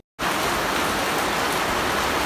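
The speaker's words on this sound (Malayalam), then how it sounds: "മഴ നല്ല ശക്തിയായിട്ട് തന്നെ പെയ്യുന്നുണ്ട് കേട്ടോ" Heavy rain falling outside a garden shed during evening potting of plants and rain lilies, a dense, steady roar that starts abruptly and stays loud and even, with no voices.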